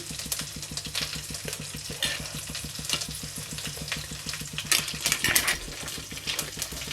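Curry leaves and a couple of dried red chillies sizzle in hot oil with a steady, crackling fry, while a spoon stirs and occasionally clinks against the pan close by.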